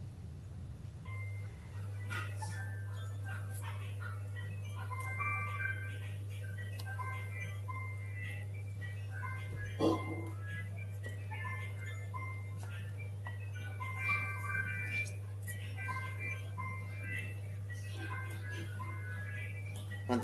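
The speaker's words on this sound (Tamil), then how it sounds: "ஃபோன் ரிங் ஆகுதுங்க" A phone rings in a room, sounding as a repeating pattern of melodic electronic tones over a steady low hum, with a faint click partway through.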